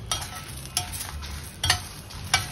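Ingredients for a kuzhambu sauté in a pan: four distinct spatula scrapes at uneven intervals over a soft, low sizzle, close by and with no voices.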